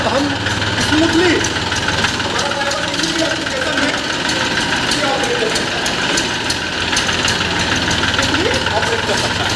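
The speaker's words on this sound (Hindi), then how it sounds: "लाइक अभी हमारी ट्रैक्टर चालू हो गई" A 2022 Eicher 380 Prima G3 tractor engine idles just after starting, a loud, steady knocking chug with a voice speaking over it.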